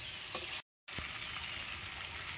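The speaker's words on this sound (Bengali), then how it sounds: "এবারে আমি কচুগুলো আলুর মধ্যে দিয়ে দেবো, দিয়ে নাড়িয়ে চাড়িয়ে খুব সুন্দর করে কষিয়ে নেব।" Taro pieces fry with potatoes in a pan while being stirred, a soft, close sizzle with one brief dropout of sound and no talking.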